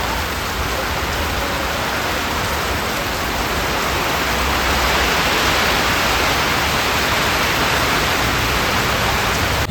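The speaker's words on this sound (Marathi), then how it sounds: "पाणी बघा किती पडतं" Heavy water pours down like a downpour on a night of Dahi Handi festivities, a loud, steady rushing hiss that never lets up, with no voices.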